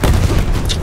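A deep anti-tank rocket explosion from the video game Battlefield 1, one loud booming blast that fills the moment and rolls off into a rumbling tail, up close and without any voices.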